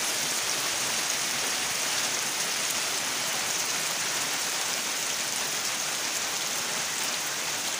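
Heavy rain pours steadily all day, a dense, loud, unbroken hiss of drops hitting surfaces with no pauses and no voices.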